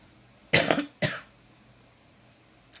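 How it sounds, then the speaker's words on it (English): A person coughs twice in quick succession, close and fairly sharp, a lingering residual cough after COVID, with a faint start of another at the end in a quiet room. "That's the COVID cough."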